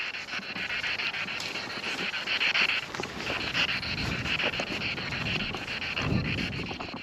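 A frightened dog pants in quick, steady breaths close by outdoors at night, with wind buffeting the microphone throughout and a faint whimper-like edge.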